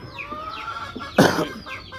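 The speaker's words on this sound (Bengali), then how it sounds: "এই মুরগিগুলোর জাত হলো পৃথিবীর সবচেয়ে ক্ষুদ্র জাত। এটা মালয়েশিয়ান শিরোমা।" Malaysian serama chickens, the world's smallest breed, give soft scattered clucks close by, with one louder squawking burst in the middle.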